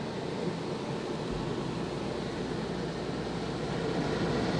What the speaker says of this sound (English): There goes our compressor.